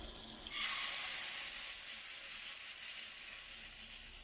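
Cabbage dosa batter on a hot pan starts sizzling loudly the moment oil is poured over it, a steady bright frying hiss that settles and carries on alone to the end.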